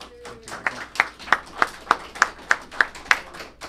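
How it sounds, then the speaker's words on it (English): Clapping rings out in an even, steady rhythm, about ten crisp claps in quick succession at moderate volume. "I really want to give a nice round of applause for another doer in our community, Will Holland."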